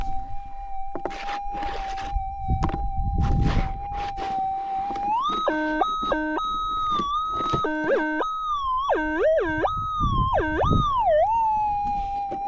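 A metal detector hums a steady threshold tone through its speaker outdoors. The tone then breaks into repeated rising and warbling signal tones as the coil sweeps over a target, with scraping and handling noise underneath.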